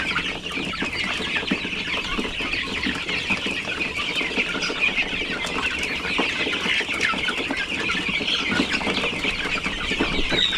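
Chickens cluck steadily outdoors, a continuous chorus of several birds with no talking.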